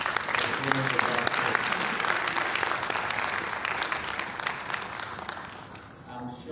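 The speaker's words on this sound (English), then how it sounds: "Another round of applause for the performance of that" An audience at a formal report launch event gives a sustained round of applause for a performance, thick and even clapping that stays loud for over six seconds and eases slightly near the end.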